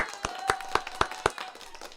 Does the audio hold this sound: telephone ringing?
no